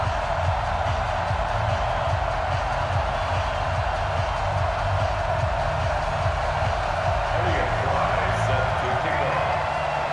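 Stadium crowd roaring and cheering before a Miami Dolphins versus Arizona Cardinals game in Madden NFL 20, a loud, steady wash of noise with a commentator talking over it.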